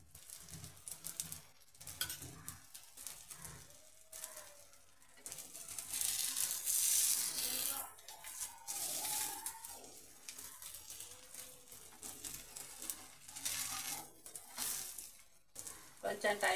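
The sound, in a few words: oil sizzling as ragi and wheat flour attu cooks on a pan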